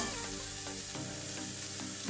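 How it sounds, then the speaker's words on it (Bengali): Note shak greens fried with peanuts in a pan, giving a dense continuous sizzle with a few spatula scrapes, loud and close, no one speaking. "বাদাম দিয়ে লোটে শাক ভাজা হয়ে গেছে"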